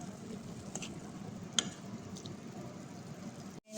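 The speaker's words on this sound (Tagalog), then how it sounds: "haluin natin mga sisilab para mahalo yung mga sangkap na nilagay natin" Mung bean stew ingredients stirred in a pot: faint, steady low bubbling and stirring with a couple of soft utensil taps, the sound cutting off abruptly at the end, no voices.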